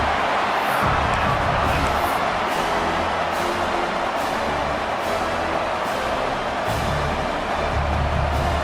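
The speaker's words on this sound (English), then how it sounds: "Listen to the crowd energy here in the early going." Stadium crowd at a Hawaii versus Wisconsin college football game, a steady dense roar of many voices filling the whole clip at constant loudness, with no single voice standing out.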